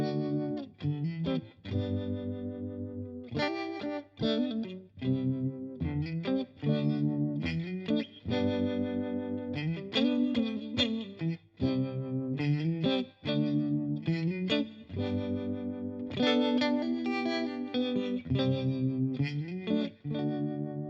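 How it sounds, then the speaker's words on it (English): An MXR Tremolo M305 pedal in harmonic tremolo mode with built-in modulation shapes a guitar's chords and single notes, which pulse and swirl continuously throughout, loud and alone. "So what we're going to hear now is a tremolo effect and some modulation built in."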